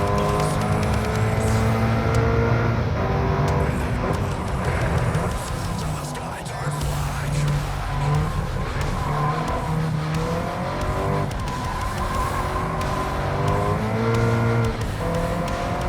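Subaru BRZ race car in a racing video game: a loud, continuous engine roar that rises and falls through gear changes, with tire squeal and skidding through corners, and a voice talking over it.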